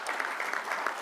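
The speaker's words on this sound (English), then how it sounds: "let them just stand up and fast to clap hands" An audience at an African football gathering claps for standing football federation presidents, a dense, brisk burst of many hands heard at moderate distance.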